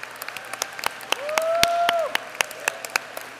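Graduation audience at an engineering college spring commencement applauding families, scattered hand claps swelling into a brief burst of applause, then thinning to separate claps, with a sustained tone in the middle.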